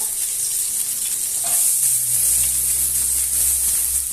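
Onions sauté in a pan with very little oil, giving a bright, even sizzle that swells slightly partway through, with a low hum beneath and no one speaking.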